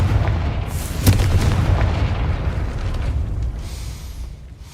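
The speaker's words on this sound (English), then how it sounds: "Confringo." A Confringo blasting spell explodes in Hogwarts Legacy, with a sharp burst near the start followed by a deep rumbling roar that fades slowly, heard alone.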